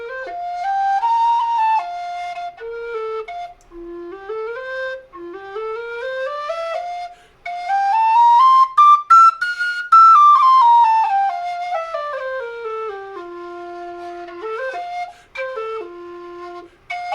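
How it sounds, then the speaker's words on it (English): A Dante aluminum whistle with a resin wind blade plays a clear solo melody, bright tones stepping and sliding up to a high peak and back down in phrases with short breaths between. "here's another aluminum whistle. This one has a like a resin wind blade. This is my Dante."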